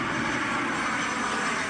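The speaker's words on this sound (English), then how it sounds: "the occasional airplane overhead here in the flight path" An airplane passes overhead along a flight path above a quiet neighborhood street, a steady broadband engine roar that stays loud and even throughout the short stretch.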